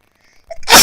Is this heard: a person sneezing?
yes